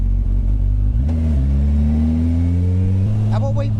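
A loud, close turbocharged Suzuki Hayabusa motorcycle engine, about 450 bhp, rumbles and revs, its pitch climbing steadily before dropping back, with a brief voice near the end.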